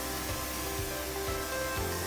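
A Greenworks 60V 3000 PSI pressure washer sprays in a loud, continuous broadband hiss with a steady motor hum and faint rhythmic pulsing underneath.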